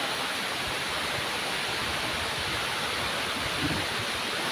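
Steady, dense roar of a waterfall, loud and continuous with no pauses, filling the whole clip without voices.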